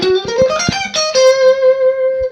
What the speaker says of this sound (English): So here's just kind of the bass tone of the Strat.